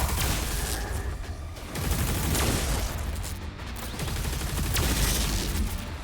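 Dense, continuous close-range weapon fire from Doom: The Dark Ages, a loud, broadband roar of blasts and impacts that runs without pause for the whole stretch, with no talk over it.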